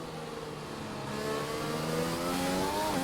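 Formula 1 car in a racing video game revving hard on the Silverstone circuit, engine note climbing steadily in pitch and volume over about three seconds, close and continuous with no talk.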